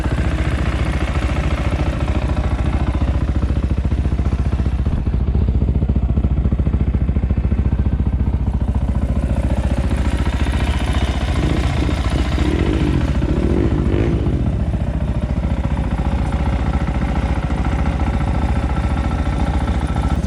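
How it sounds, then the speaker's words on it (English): A 2020 SSR Motorsports SR300 dirt bike fitted with a Lectron carburetor idles steadily at close range, a loud, even, continuous engine drone with no real change in pace throughout. "as you can hear, the bike just purrs like a kitten now"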